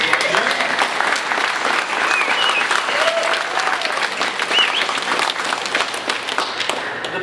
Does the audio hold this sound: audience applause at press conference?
yes